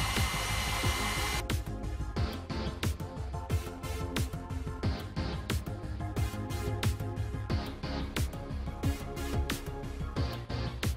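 A hair dryer blows steadily and loudly on a model tank being weathered with mud, its broad whooshing roar broken by frequent small clicks and taps, with no talk.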